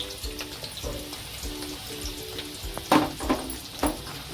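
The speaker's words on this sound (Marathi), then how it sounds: "आपण सगळ्यात आधी आता कांदा टाकून घेऊ. तेल पण छान असं तापलेलं आहे." Onion hits hot oil already holding curry leaves and garlic, producing a steady, rain-like crackling sizzle. A few louder pops stand out near the end, close and without speech.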